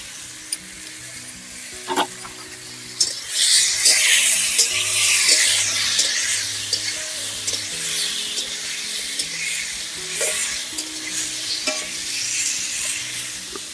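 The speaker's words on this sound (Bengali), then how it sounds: "তো দেখুন, ঝিঙাগুলো সুন্দর ভাজা ভাজা হয়ে আসছে" Ridge gourd pieces frying in a pan with a little turmeric, a close sizzle that swells after a few seconds, broken by sharp spatula scrapes and stirring, with a low hum beneath.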